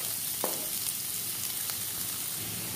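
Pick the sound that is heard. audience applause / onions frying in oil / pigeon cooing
onions frying in oil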